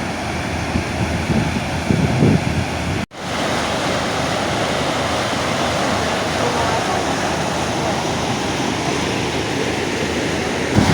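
Water pours into a canal lock at Béziers as a boat rises, making a loud, steady rushing roar like surf. After a brief dropout the roar carries on unbroken, with some wind buffeting the microphone.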